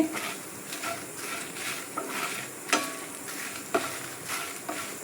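Cumin seeds roast with coriander seeds in a hot pan, a steady close sizzle broken by occasional scraping and clinks from stirring.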